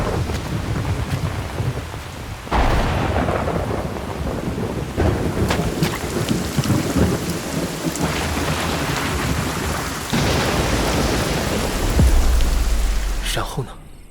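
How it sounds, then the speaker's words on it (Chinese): Heavy rainstorm with thunder in an animated 3D fantasy series: a loud, steady downpour hisses throughout, and a deep rolling thunder rumble swells near the end, with no voices. "那一年的夏天，下了好大一场暴雨。"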